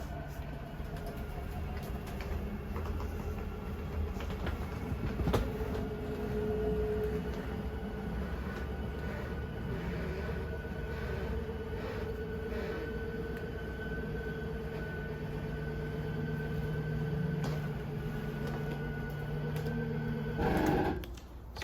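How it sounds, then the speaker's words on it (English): The slide-out room on a 2022 Jayco Bungalow 40RLTS drones steadily as its motor extends it, then a short, loud gear grinding near the end marks full extension. "So once you get a gear grinding noise, you will know you are fully extended"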